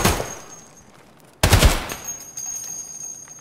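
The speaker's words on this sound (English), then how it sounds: "Who's he shooting at? Is he shooting at you?" Automatic gunfire in the shooter game Escape From Tarkov, a brief burst near the start and then a loud, close volley, followed by lighter shots and sustained rattling.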